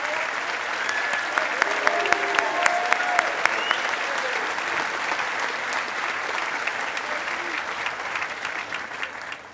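A graduation audience at Cushing Academy in 2016 gives a standing round of applause: dense, steady clapping from a large crowd that fills the whole stretch at an even level.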